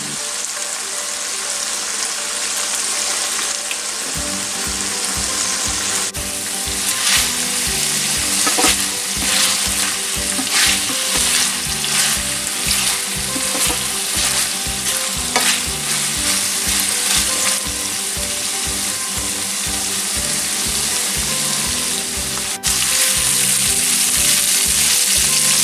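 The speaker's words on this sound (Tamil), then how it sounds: "பாருங்க எங்களோட சிக்கன் இப்போ நல்லா பொரிஞ்சு வந்துடுது." Chicken frying in hot oil in a pan gives a dense, continuous sizzle with a fast, regular clicking or scraping rhythm running through most of it, close and fairly loud with no voices.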